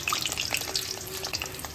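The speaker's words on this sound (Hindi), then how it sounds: "पापड़ भी फ्राई हो चुके हैं, अब हम लोग करते हैं रोल फ्राई।" Rolls deep-fry in hot oil for iftar, a steady close bubbling sizzle with crackling pops throughout and no voices.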